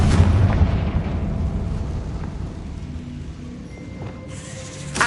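A Confringo fire-blast spell in Hogwarts Legacy bursts with a loud, sustained booming rumble that rolls on for seconds, then a fresh sharp burst flares up near the end.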